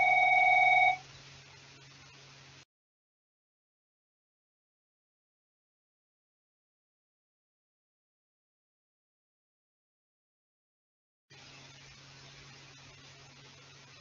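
A phone rings briefly at the start with a short electronic tone, then the sound cuts to silence and returns as a low steady hum, quiet and alone with no talk.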